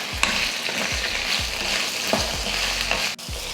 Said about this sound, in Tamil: வெண்டைக்காயை இப்போ அந்த வலுவலுப்பு போகிற வரைக்கும் வதக்கி எடுத்துடலாம்